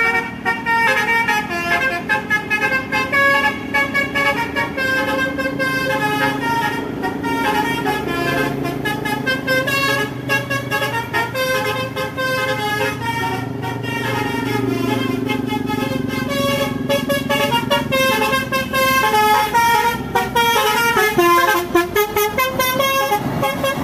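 Musical tolelet horns of an STC bus blare loud and close in a long, continuous melodic sequence of shifting tones, with traffic noise beneath and no talking.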